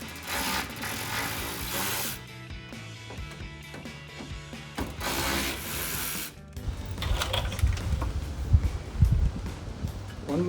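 A hand ratchet clicks rapidly while unfastening screws from the rock guard on a 2021-2023 Ford F-150, with close, loud bursts of pawl ticking broken by short pauses and scraping handling noise.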